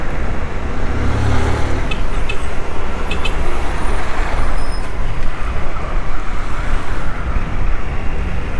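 Saturday street traffic rumbles steadily, with buses and trucks passing close and a short hiss of air brakes, loud and unbroken throughout.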